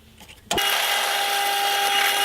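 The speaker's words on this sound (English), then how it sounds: "Now I'm just going to drill out a 10mm hole through the centre of all 4 discs" An electric drill boring a 10mm hole through the centre of four stacked sander discs starts abruptly and then holds a loud, steady high-pitched whine up close, following a short quieter stretch, with no talking.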